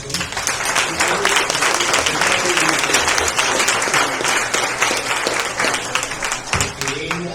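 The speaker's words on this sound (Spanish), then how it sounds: "para quien pido un fuerte aplauso" Strong audience applause at a book presentation and discussion event, continuous dense clapping that holds steady throughout, with faint voices mixed in beneath it.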